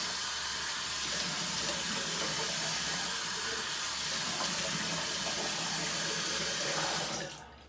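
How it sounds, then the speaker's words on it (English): Steady water rushes from a bathroom sink tap as someone splashes their face, a loud continuous hiss that cuts off abruptly at the end. "Splash some water on my face to clean everything off."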